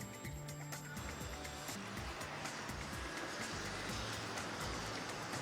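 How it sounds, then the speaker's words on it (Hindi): Steady rain falls in Lahore as a dense, even hiss with scattered patters of drops, continuous and fairly faint, with a low rumble underneath and no talking. "काफ़ी अरसे के बाद लाहौर में बारिश हुई है"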